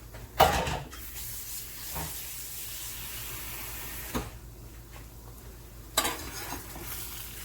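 Eggs and chorizo sizzle steadily in a pan at moderate level, with a few sharp utensil clinks and scrapes breaking through around the start and near the end; no one speaks.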